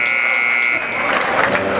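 At a high school basketball tournament game in a gym, the end-of-quarter buzzer blares as a loud steady tone for under a second, followed by a roar of crowd noise.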